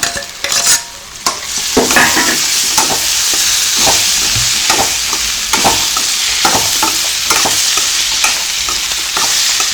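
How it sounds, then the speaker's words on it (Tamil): Boiled broad beans and potatoes being stir-fried and tossed in a pan, a continuous loud sizzle with repeated scraping stirs of a spatula, no voices. "இப்போ நம்ம வேக வச்ச பச்சை அவரைக்கொட்டையுமே உருளைக்கிழங்கையும் இதை மிக்ஸ் பண்ணி நல்லா தாளிச்சுக்கலாம்"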